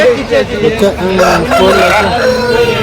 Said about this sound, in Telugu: ఇక్కడ కూడా మనకు పుంజు అయితే ఉంది